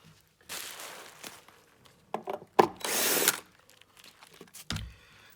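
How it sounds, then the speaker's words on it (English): Phillips screwdriver backing two screws out of the wood base of a hydraulic styling chair, with short scraping turns, clicks and a couple of louder knocks close by. "you need a Phillips screwdriver just to take the two screws"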